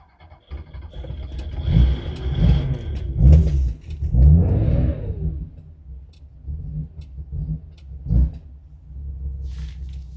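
Porsche 911 T engine rumbles and revs in a few rising bursts as the car pulls away, with a low steady idle underneath before fading to a quieter drone.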